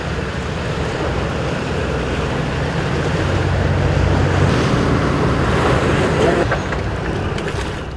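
Strong wind buffets a fishing boat at sea off Chujado during winter yellowtail fishing, with heavy surf and waves washing steadily around the hull and wind roaring into the microphone throughout.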